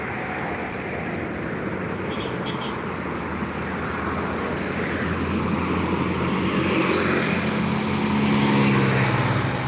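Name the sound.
small trucks passing on road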